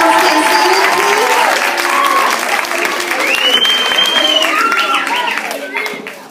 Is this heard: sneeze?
no